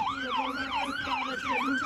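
A toy ambulance sounds its siren in a steady, looping wail that rises and falls about every half second, loud and close, with no talking over it.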